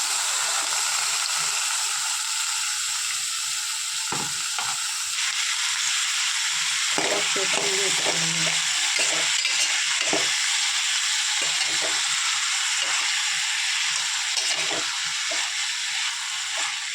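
Chopped snake gourd stir-fries in hot oil with curry leaves in a pan, a continuous loud sizzle and hiss broken by repeated scraping and clattering stirs, close up and with no talking.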